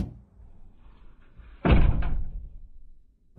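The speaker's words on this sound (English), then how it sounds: "opening and closing the door feels kind of like it's heavy, but it feels and sounds cheap" The door of a 2023 Mercedes-AMG SL63 V8 convertible is shut once with a solid, close thunk and a short rattle after it, following quiet handling noises.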